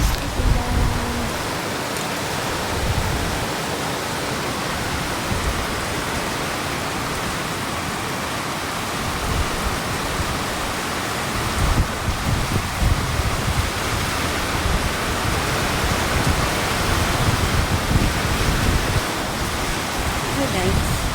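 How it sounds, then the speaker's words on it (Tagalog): Heavy typhoon rain pours down in the Philippines in a constant, dense roar, loud and close, with a voice briefly heard beneath the downpour. "Ulan. Ang lakas ng ulan."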